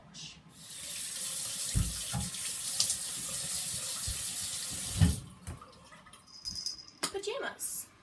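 Tap water runs steadily into a sink during a boy's face wash, a continuous hiss lasting about five seconds before it stops, followed by brief clatters and a faint voice.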